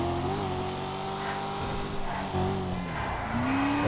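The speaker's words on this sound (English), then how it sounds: "if you listen to the engine," A sports car engine in Grand Theft Auto V Online revs and whines steadily, pitch rising and falling with gear shifts, loud and close with tire squeal mixed in.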